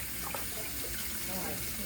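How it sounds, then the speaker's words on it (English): Hot tap water runs steadily into a jug, a continuous close splashing rush with no talking over it. "So I'm just gonna fill up this jug like this."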